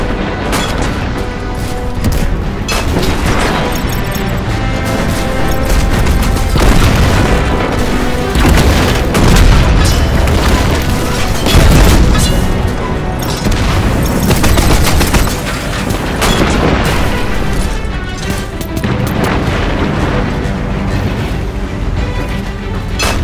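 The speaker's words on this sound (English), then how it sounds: "Of course the Red Legion have tanks too." Red Legion tanks in the Destiny 2 campaign mission Payback fire in a dense, continuous barrage of booms, gunfire bursts and explosions, loud and close throughout.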